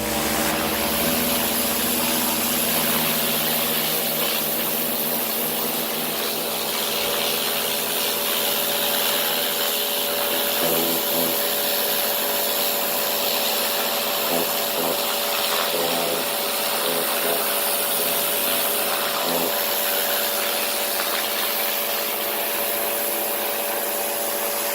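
A Karcher K4 Compact pressure washer sprays a dirty gravel board outdoors, giving a loud, steady motor whine and hissing water blast that continues alone for the whole stretch with only slight variation.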